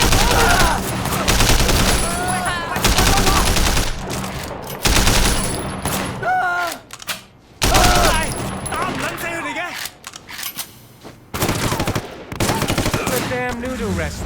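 Gunfire in Sleeping Dogs, dense rapid bursts of shots and automatic fire in a shootout, loud and close, broken by brief pauses, with voices shouting in between.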